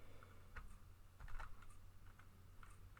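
Key presses on a computer keyboard entering an Alt plus comma shortcut, a handful of quiet, irregular clicks over a low steady hum.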